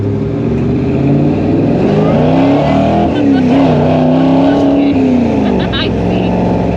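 A supercharged 1955 Chevrolet Nomad gasser roars loudly and continuously from inside, the engine note rising and falling with supercharger whine, and voices talk over it.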